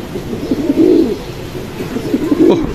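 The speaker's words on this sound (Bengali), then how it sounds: "একেবারে পুরান জাতের গড়রা কবুতর" Old-breed Gorra pigeons coo close by, low throaty rolling calls repeating in two clear swells, with no voices over them.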